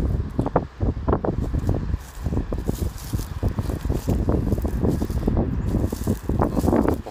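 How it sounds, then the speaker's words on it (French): Gusty outdoor wind over a Paulownia planting field buffets the microphone in a steady rumble, with rustling and crackling bursts rising and falling throughout. "Là vous pouvez entendre le vent."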